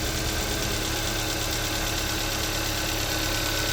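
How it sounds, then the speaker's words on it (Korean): A Hyundai Avante HD car engine in poor condition idles steadily and close, with a rough mechanical rumble and a light ticking clatter of valve noise running through it, no voices. "밸브 소리도 지금 섞여 있는 상태고"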